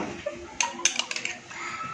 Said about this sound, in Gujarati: ટામેટા થોડા એડ કરી દઈશું